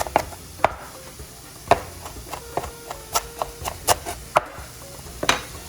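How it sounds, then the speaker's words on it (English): A knife chops cilantro on a cutting board for pico de gallo: a run of crisp, irregular taps, some sharper than others, close and clear with no talking. "cut it here. Got a little bit of cilantro."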